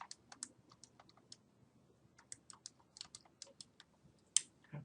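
Numbers being keyed into a calculator, a quick irregular run of faint, close button taps in short bursts with brief pauses between.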